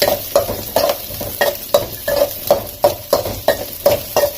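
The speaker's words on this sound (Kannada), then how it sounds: "ಈಗ ಈರುಳ್ಳಿ ಹಾಕೋತಾ ಇದ್ದೀನಿ, ಬಾಳಿಸ್ತಾ ಇದ್ದೀನಿ." Onions sautéing in a pan, a spatula scraping and tossing in a steady rhythm of about a dozen close, crisp strokes over a sizzle.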